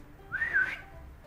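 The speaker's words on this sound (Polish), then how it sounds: "musisz mnie kiedyś nauczyć gwizdać" A person whistles a short rising-then-falling note, a single clear tone near the listener, with faint background hiss and no talk.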